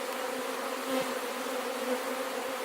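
Honey bees buzz steadily around a young hive, a dense, continuous hum with a slight swell now and then, close and fairly loud with no talking.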